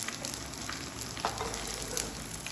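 Bottle gourd and semolina ring bites fry in hot oil, making a soft, continuous sizzle with faint crackles and an occasional light stir or clink.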